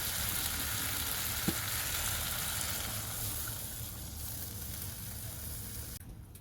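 Water poured into a pan of fried, well-browned potatoes for a village-style rohu fish curry hisses and sizzles steadily and close, fading slightly over several seconds with a small clink partway through.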